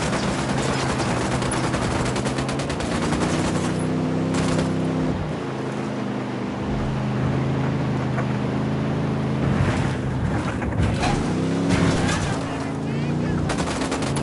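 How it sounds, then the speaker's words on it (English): Gunfire in Ghost Recon Wildlands, rattling automatic bursts layered over a droning motor engine and game ambience, steady and loud with short pauses between volleys. "I'm shooting these fuckers."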